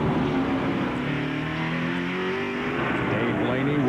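A Pontiac NASCAR Cup car driven by Rusty Wallace roars away from pit road after a four-tire stop at the 2000 NAPA 500. The engine noise is loud and steady, with a commentator talking over it.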